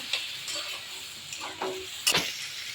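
Potato and yam curry with spice paste is stirred in a pan, a soft continuous sizzle with scraping strokes and a sharp metallic clank near the end.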